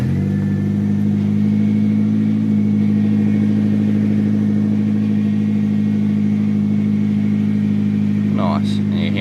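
A turbocharged AE92 Toyota Corolla engine runs steadily at idle close by, a loud even hum with the power steering working, continuous throughout with a brief higher sound near the end.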